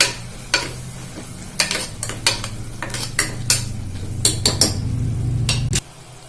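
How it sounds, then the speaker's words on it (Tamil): A utensil scrapes and knocks against a pot in repeated strokes while cauliflower biryani ingredients with mint leaves sizzle underneath, close and fairly loud, ending abruptly. "நல்லா கிளறி விட்டுக்கோங்க, கொஞ்சம் நேரம் இருக்கட்டும்."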